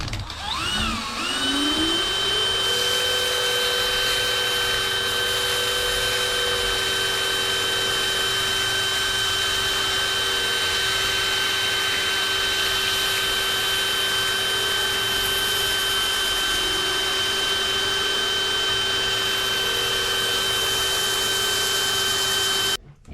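Sanding with woodworking sandpaper: a motor whines up to speed, then holds a loud, steady droning hum for about twenty seconds before it stops abruptly. No voices.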